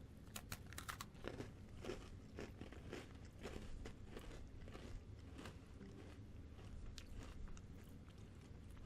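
Crunchy Coca-Cola flavored Oreo cookies with Pop Rocks are bitten and chewed up close, sharp crunches giving way to rapid crackly chewing and faint packaging crinkles, all soft and quiet.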